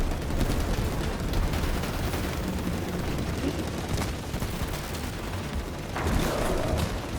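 Rapid gunfire in the video game Split Fiction crackles over a dense, noisy mix, with a few sharper shots standing out.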